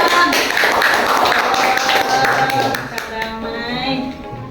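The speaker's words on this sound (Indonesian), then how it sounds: "tepuk tangannya" A small group at a student podcast session claps together in a loose burst of applause, fading out after a few seconds.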